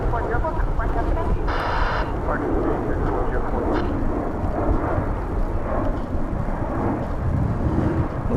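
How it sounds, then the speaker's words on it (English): Embraer E-jet airliner taking off from DFW Airport: a loud, steady jet engine roar with rumbling wind buffeting across the whole stretch, alone without talk. "I'm having a hard time keeping up with that E-jet. It's just going too fast for me."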